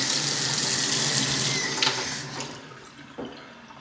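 Water runs from a faucet into a sink during a pre-move-in home inspection, a steady broadband rush that tapers off toward the end with a brief clunk.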